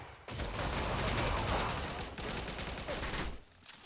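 A Saiga-12K shotgun fires unupgraded buckshot in a video game, a fast burst of loud, heavy blasts that run together with a brief dip midway.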